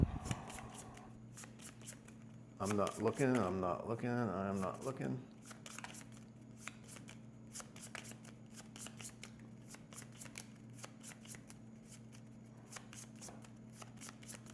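A deck of cards is shuffled in a quick riffling burst, followed by soft ticking card handling, while a person speaks briefly during a solo game of the board game The Old King's Crown.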